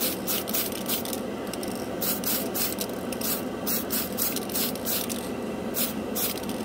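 Tamiya Metal Colors aerosol spray paint hisses in steady close bursts, broad and airy, repeating with short gaps over several seconds, with no talking.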